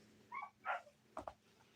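A dog gives a few short barks and yips, two quick bursts early, then a louder one and a closing pair, heard at moderate distance over a quiet background.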